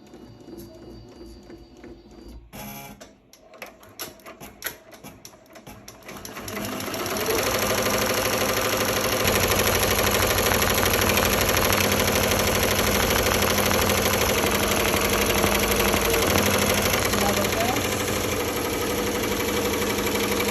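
A Ricoma MT1501 embroidery machine stitches a design onto a leather vest, running at about 800 stitches per minute: after a few quiet seconds its fast, steady mechanical chatter rises and stays loud and continuous, with no talk.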